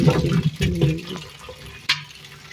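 Jujube berries being washed in a bowl of water, with close sloshing and splashing and a few light knocks as the fruit is stirred, brief and fairly loud.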